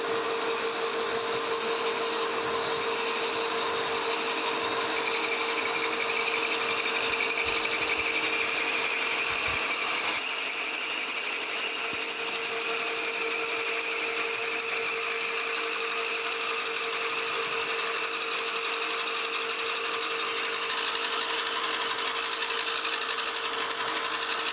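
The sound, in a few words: metal lathe facing a new shaft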